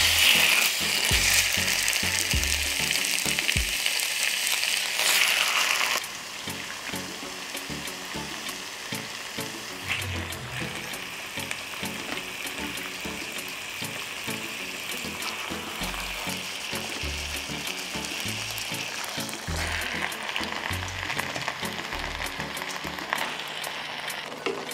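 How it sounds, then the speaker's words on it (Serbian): Bell peppers sizzle and fry in about 100 ml of hot oil in a pan, a steady dense crackle that stays loud throughout and drops slightly in level after the first few seconds, with occasional clinks of stirring. "Ulje se zagrijalo i polako ćemo spuštati papriku."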